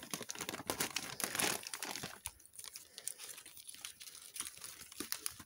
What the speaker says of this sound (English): Let's take the scissors, cut this open.